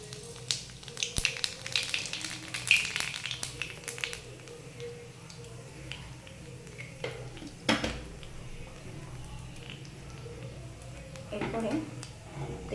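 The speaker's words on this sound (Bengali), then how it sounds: "তেলটা গরম হয়ে গেছে, এবারে কালো জিরাটা দিয়ে দেব।" Black cumin seeds crackle and sizzle in hot oil in a wok, with scattered sharp pops and a low frying hiss under someone talking throughout.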